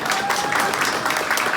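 A short burst of steady audience applause, a crowd clapping continuously at a moderate level without a pause.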